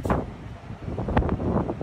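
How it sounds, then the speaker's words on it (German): Strong wind buffets the microphone outdoors on a rooftop in Mallorca, a low rumbling roar with irregular gusty bursts throughout. "Ich glaube, es ist krass windig gerade"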